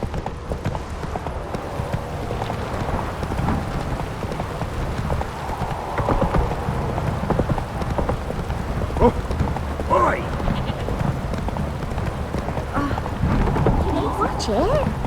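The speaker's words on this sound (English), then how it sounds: "Oh, it's drizzling." Light rain drizzling in The Witcher 3 video game, a steady soft hiss beneath hoof clip-clops of a horse, distant rumbles and muffled game voices.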